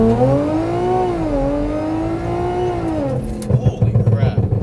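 An AWD Audi S4 on Hoosier drag radials launches at a drag strip, the engine's steady rising drone filling the first three seconds before cutting off into choppy rumbling, with excited talk over it.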